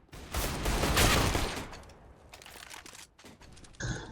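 Glock pistol fire in Counter-Strike: a loud, close burst of rapid shots blending into a dense crackle, then fading into quieter, scattered clicks and a short final noise.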